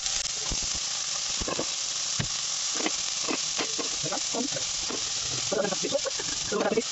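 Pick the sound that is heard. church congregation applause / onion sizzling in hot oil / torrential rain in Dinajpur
onion sizzling in hot oil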